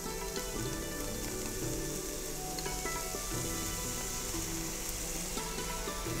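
Soy sauce goes into a hot pan during Chinese-style cooking, giving a dense, continuous hiss of sizzling that stays loud and even from start to finish.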